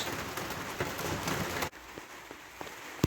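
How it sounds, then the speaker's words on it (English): Steady rain falls outside a garden cabin on a soaking wet Saturday, a dense even hiss that drops to a quieter patter with scattered close drips partway through. "the rain's not letting up"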